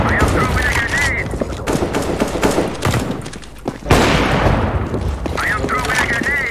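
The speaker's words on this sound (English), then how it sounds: "I am throwing a grenade!" A grenade goes off in a CS:GO multiplayer match, a sharp burst near the middle amid dense rapid gunfire, with players shouting over the battle.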